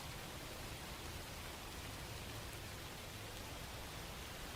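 Rain sound effect from the video game Strange Horticulture: a steady, soft, hissing wash of rainfall with no speech, even and continuous throughout.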